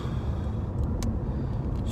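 Car driving at dawn over about fifteen centimetres of fresh snow, a steady low rumble of engine and tyres from inside the cabin, with a few faint crunching ticks.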